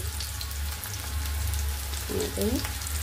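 Onion and garlic fry in a pan for black pea usal, a steady close sizzle with a low hum underneath, and a voice briefly speaks near the end.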